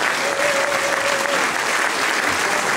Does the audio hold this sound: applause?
yes